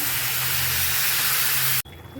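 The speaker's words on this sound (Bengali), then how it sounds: "ভাজা হয়ে গেছে, এবারে দেব জল।" Water poured into a hot pan of frying vegetables, producing a loud, close, steady sizzling hiss that cuts off abruptly, leaving a quiet kitchen background.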